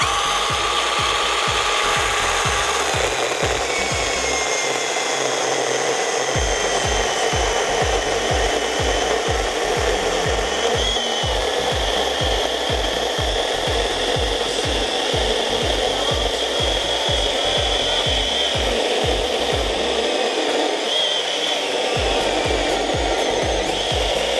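A small Grand electric mini saw buzzes continuously through wood with a rapid rasping rhythm, close and loud, pausing briefly twice.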